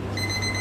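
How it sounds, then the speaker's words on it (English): A workout timer buzzer sounds during a televised morning-show exercise segment, a steady electronic tone held for under a second, fairly loud and alone with no talk. "you heard the buzzer"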